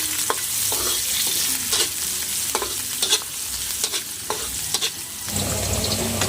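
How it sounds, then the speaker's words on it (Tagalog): Ginger, garlic and onion sizzle steadily in a hot pan while a utensil scrapes and stirs them, producing loud, close frying noise with repeated sharp clicks of the stirring throughout. "ilalagay na po natin ang luya, bawang, sibuyas"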